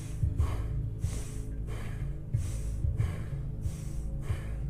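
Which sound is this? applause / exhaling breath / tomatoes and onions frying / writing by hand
exhaling breath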